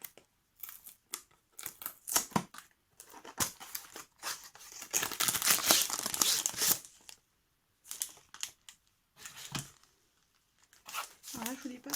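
A packaged item from a discount-store haul is opened up close, with crinkling plastic, tearing and snipping in irregular bursts and one longer stretch of rustling, between pauses where someone speaks French.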